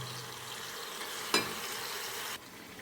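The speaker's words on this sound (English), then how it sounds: "I have added chicken and stirred up and down" Chicken and onions fry in a pan with a steady, moderate hiss. One sharp scrape of stirring stands out near the middle, and then the sizzle drops a little quieter.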